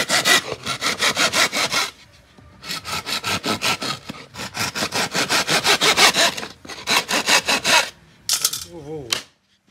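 Hand saw cutting a bamboo tube meant as a bird nest, with fast rhythmic back-and-forth strokes, loud and close, in several bursts separated by short pauses.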